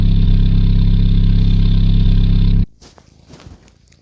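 The Nebelhorn 18 car in the video game Drive X idles loud and steady with a deep even hum, then cuts off abruptly into near silence, followed by a few faint soft knocks.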